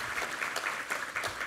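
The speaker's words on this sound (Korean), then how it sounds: "우리 하나님께 감사와 영광의 박수 올려드리겠습니다" A Sunday church congregation claps together during a Korean worship service, a dense, even patter of many hands filling the sanctuary in a brief, steady burst.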